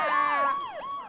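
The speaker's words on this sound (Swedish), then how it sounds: "Ambulansen? Vad i all världen är det?" An ambulance siren wails in rising and falling sweeps, steady and moderately distant, with no talk over it.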